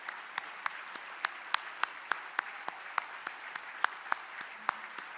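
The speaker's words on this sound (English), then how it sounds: "if everyone could applaud them" A small group at an awards gala claps steadily, each clap crisp and distinct, the applause continuing evenly throughout.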